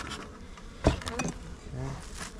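Honey bees at an open hive being worked during a brood inspection, a steady close buzzing swarm with a brief louder burst and faint talk mixed in.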